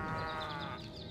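Cows mooing in the video game Destroy All Humans!, a sustained, close, bleating-like animal call filling the short moment on its own.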